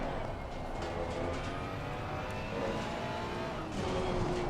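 Race car engine drone in a racing video game during a test stint with a McLaren Evo on hand, a steady continuous engine tone with some tire noise and shifting pitch throughout.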